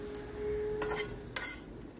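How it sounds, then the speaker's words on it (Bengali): Sliced spiny gourd (kakrol) frying in a pan at home, a quiet steady sizzle with a couple of brief stirring scrapes and clinks partway through. "তো কাঁকরোলগুলো আগে ভেজে নিলাম"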